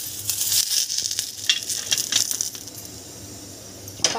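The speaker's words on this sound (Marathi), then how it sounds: "आता लसूण पाकळ्या टाकूया।" Garlic cloves sizzle and rattle as they are stirred and roasted in a hot pan, with steady frying hiss, scraping and clinking of the spoon, and a sharper clatter near the end.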